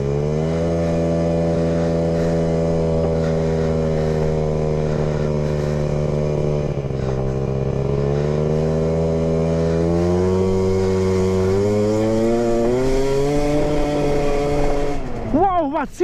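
A small Aprilia SR50R 50cc motorbike engine idles and revs steadily for a long stretch, its buzzing tone rising and falling, close and loud, with a sharp rev burst near the end.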